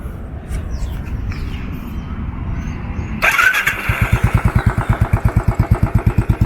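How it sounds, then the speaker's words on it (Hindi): A Royal Enfield Bullet 500 Standard EFI motorcycle with a filtered stock exhaust starts after a low whirring, then settles into a loud, close, steady idle of rhythmic thumping pulses. "अपने बुलेट 500, इसका जो एग्जॉस्ट सुना देता हूँ मैं अभी, इग्निशन ऑन कर लेते हैं।"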